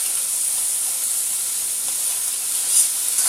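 Beef and vegetables sizzling in an oiled pan give a steady, even hiss with no break, close and fairly loud and untouched by speech, with a small flare of crackle near the end.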